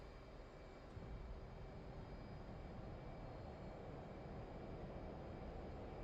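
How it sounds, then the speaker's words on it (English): A fighter jet engine in the DCS flight simulator spools toward afterburner before a carrier catapult launch, a steady deep roar with a constant whine above it, holding level and close throughout. "bring her up to afterburner"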